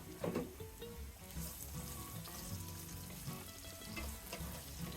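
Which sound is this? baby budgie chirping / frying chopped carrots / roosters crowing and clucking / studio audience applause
frying chopped carrots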